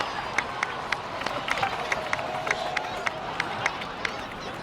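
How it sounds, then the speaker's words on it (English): Applause in a Genshin Impact cutscene: scattered rhythmic clapping with faint crowd noise, even and moderately loud, with regular sharp claps standing out from a steady background murmur. "please give another round of applause for them"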